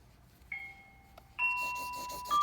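An electronic school bell chimes indoors in a classroom, sounding a few clear ringing tones, faint at first and then louder near the end, with no voices over it.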